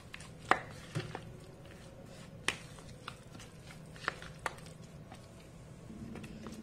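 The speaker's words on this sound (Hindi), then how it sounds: "सारी चीजों को अच्छे से मिक्स करेंगे।" Kofta meat being mixed by hand with salt, chili, garlic paste, turmeric and garam masala in a bowl, heard as faint squishing and a few sharp taps against the dish, quiet and close, with no talking.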